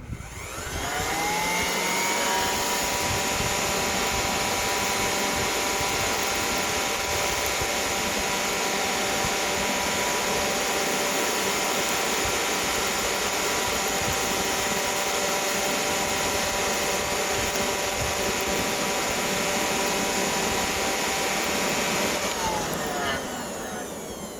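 A hardwood charcoal forge roars steadily as an air blower drives it to heat up, a loud continuous rushing drone with faint tonal whine, running unbroken for about twenty seconds before cutting off near the end.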